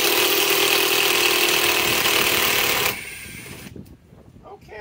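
A Metabo cordless driver drives screws into sheet metal with a loud, steady, high-pitched whirring whine for about three seconds, then cuts out and leaves quieter handling noises.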